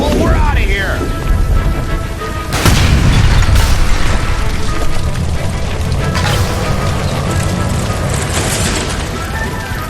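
A gas line explosion in L.A. Noire: a loud, deep boom bursts out close by, then rumbling debris and crackling aftermath, with shouting voices over the blast.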